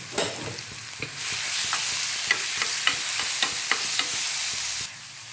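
A ground spice paste with black pepper is sautéed in a pan for horse gram rasam, with rhythmic spoon scrapes and taps over a steady nearby sizzle that cuts off just before the end. No voices.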